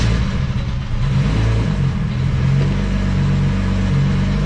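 BMW 320i E36 running on ethanol revs hard and close, a loud, steady engine roar held through the whole stretch with no voices.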